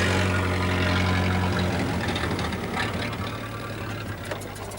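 A well-maintained vintage car engine ticks over at very low revs, under 100 rpm, with a steady, deep, rumbling idle that runs smoothly throughout.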